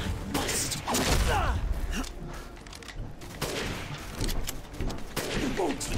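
Repeated gunfire in Resident Evil Village, a dense run of loud sharp bursts and thuds with mechanical clanks between them, continuing through the whole stretch amid chaotic game noise.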